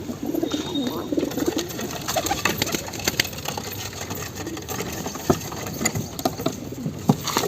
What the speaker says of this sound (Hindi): ये जो कबूतर है, ये हैदराबादी कबूतर है, पता नहीं हमेशा लड़ाई करता रहता है।